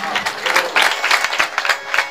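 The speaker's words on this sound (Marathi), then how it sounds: "या वर्गासाठी टाळ्या वाजवा तुम्ही" A kirtan audience claps together in a dense, steady burst of applause with a rhythmic pulse, the handclaps close and lively throughout.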